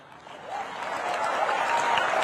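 An audience at a public speech by Rajnath Singh breaks into applause that swells steadily over two seconds, a broad wash of clapping hands.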